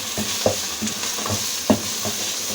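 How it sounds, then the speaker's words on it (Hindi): Mustard greens saag is stirred and fried over a high flame, with a steady sizzle and repeated scraping spoon strokes against the pan. "तेज़ आंच पे बस मैं इसकी भुनाई करती जा रही हूँ"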